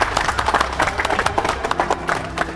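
A crowd welcomes an arriving guest with applause, many hands clapping in a dense uneven patter, loud and close, with some voices mixed in.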